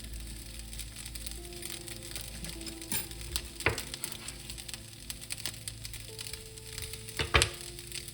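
Chives stir-frying with soy sauce in a hot pan, a soft steady sizzle with scattered scraping and clicking stir strokes, fairly faint and with no talk.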